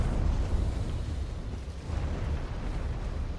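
An exploding arrow detonates in the video game Dark Souls III, a deep, sustained rumbling blast that rolls on steadily for several seconds with no pause or voice over it.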